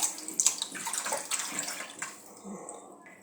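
Running water splashes steadily while something is rinsed off, a close, continuous wash that gradually softens toward the end.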